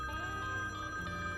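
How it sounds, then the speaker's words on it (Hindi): A telephone rings with a steady electronic tone held throughout, moderately loud and close, with no voices over it. "फोन आ रहा है।"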